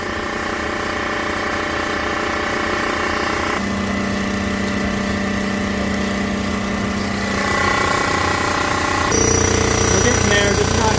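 A surfacing machine cuts a 5.7 Hemi engine block at high speed with a loud steady grinding whine, changing tone partway through and growing louder near the end.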